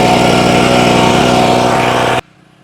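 A Mollar MLR-HPW2500E gasoline high-pressure washer engine, already hot, roars loud and steady at close range, then cuts off abruptly into near silence.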